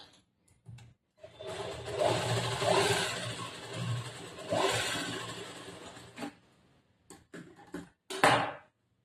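A sewing machine stitches a chudidar top in a tailoring class, running in a few bursts of rapid whirring needle strokes with short pauses between, fairly close and quiet, with no voices.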